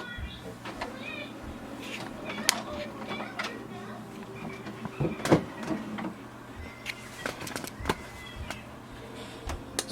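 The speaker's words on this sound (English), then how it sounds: "you will see the printer is checking for the ink cartridges" An HP OfficeJet Pro 6960 printer checks its ink cartridges with clicking, whirring mechanical movements and sharp clacks in an irregular sequence, heard close against a low steady hum.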